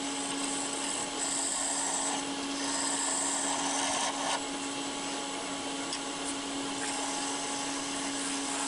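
Steady, continuous whirring of a wood lathe turning thin maple worked down to about 1.5 millimeters, with a constant motor hum and a scraping hiss from the tool against the wood, close and unbroken throughout.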